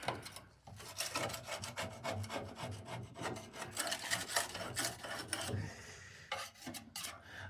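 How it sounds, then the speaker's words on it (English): Steady rasping scrape on the inner wing of a BMW E86 bodyshell, rhythmic back-and-forth strokes close up and fairly loud, with brief pauses near the end and no talking. "So I'll scrape it out"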